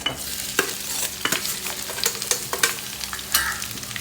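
Sliced onion, green chilies and curry leaves fry in oil for an egg roast, with a continuous sizzle broken by repeated scraping strokes of a spoon stirring the pan, close and clear.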